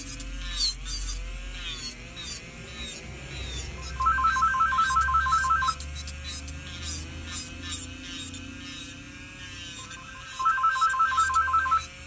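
A phone ringtone ringing in a room, two bursts of rapid trilling electronic tones several seconds apart, clear over a steady background hum with a few faint bleats, and a person briefly speaking.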